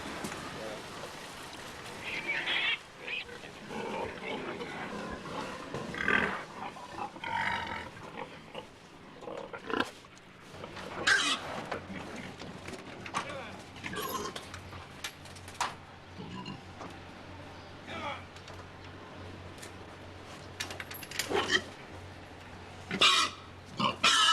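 Pigs on a farm that raises hogs for a meatpacking plant, grunting and oinking in irregular bursts over a steady background rumble, some calls near and loud, others fainter.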